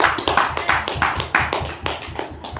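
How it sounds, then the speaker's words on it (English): Steady rhythmic clapping, fairly close and crisp, with individual claps distinct and evenly spaced throughout. "keep the applause for Adam"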